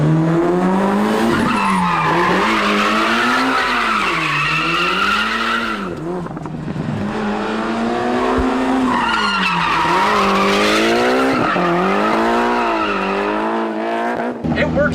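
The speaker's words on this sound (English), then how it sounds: "I learned how to do all-wheel drive drifting in this car." Tires squeal and skid continuously as an all-wheel-drive Mitsubishi Evo drifts, engine note rising and falling in long sweeping waves, loud and close.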